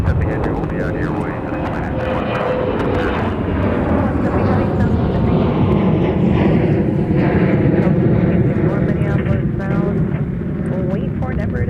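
A Delta 717-200 airliner takes off at MSP Airport on a windy day, its loud, broad engine roar rumbling continuously, with a voice talking over it throughout.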